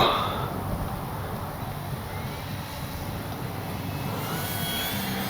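A Kavan Bristell B-23 radio-controlled model airplane flies at a distance, giving a steady, moderately loud motor drone over outdoor background noise.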